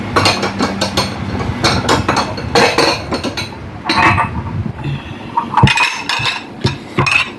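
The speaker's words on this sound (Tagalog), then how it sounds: "narinig pa ninyo tuloy yung aking bowl" A bowl of kimchi noodles clinking and scraping at lunch outdoors, with repeated sharp, close-up knocks and clatters of dishware over windy background noise.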